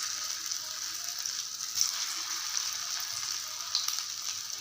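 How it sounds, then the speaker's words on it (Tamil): Chicken kola urundai balls sizzle in hot oil in a pan, a steady close bubbling hiss with occasional sharper pops and crackles, no talking. "எண்ணெயும் சூடாகிட்டு இப்போ இதை ஃபஸ்ட்டு கொஞ்சம் போட்டுடலாம்"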